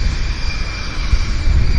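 A JetBlue Airbus A220 jet at Vancouver airport gives off a steady, broadband engine roar with a faint high whine, continuous and fairly loud throughout.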